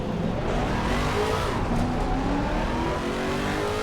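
A Lexus RC F GT3 race car engine in Assetto Corsa Competizione holds a loud, steady high-revving drone throughout, with rising pitch sweeps as it accelerates through the gears.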